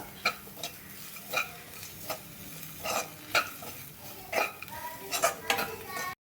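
Chili powder being stirred into fig and egg thoran in a pan, with a spoon tapping and scraping the metal in an uneven rhythm over a faint sizzle, fairly quiet and close.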